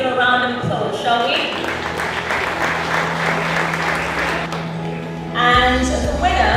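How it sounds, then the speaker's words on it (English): An audience applauds at a sports awards ceremony, with clapping filling the middle of the clip under a speaking voice and music before and after. "Let's give them a round of applause,"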